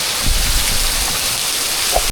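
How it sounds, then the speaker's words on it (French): Heavy storm rain pours on Langkawi island in Malaysia, a dense, loud, continuous roar of falling water close by with low rumbling gusts, and no voices over it. "Là c'est une tempête quoi carrément."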